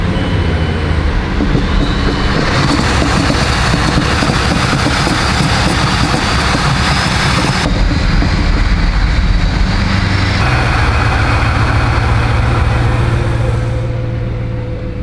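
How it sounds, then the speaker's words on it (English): A Bugatti engine idles after a cold start, rumbling continuously, loud and close, with a low drone that shifts in pitch partway through, no voices. "This is legit cold start from the very first start of the day."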